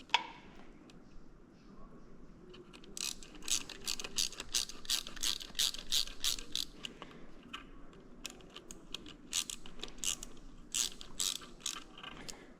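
A ratchet wrench tightens a fitting on a Wolfewerks front-mount radiator kit, giving quick bursts of close, crisp clicking strokes with short pauses between runs. No one talks.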